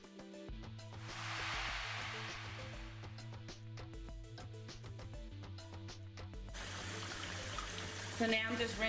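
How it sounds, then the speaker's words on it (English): Cool tap water runs steadily over wig hair bundles in a sink, a continuous splashing hiss with shifting intensity as the hair is moved under the stream, with faint background music. "So now I'm just rinsing my bundles with cool water."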